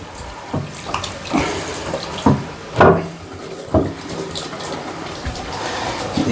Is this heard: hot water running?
yes